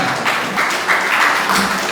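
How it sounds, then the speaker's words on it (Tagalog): A church congregation at a Sunday worship service breaks into steady, loud applause that fills the room and holds at an even level throughout. "Isa pong malakas na palakpak sa ating pong Panginoon."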